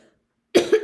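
A person gives a sudden, close cough in two quick harsh bursts after a moment of silence.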